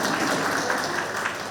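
An audience at a convention's valedictory function claps together, a dense, even wash of applause that holds steady and fairly loud for the whole moment.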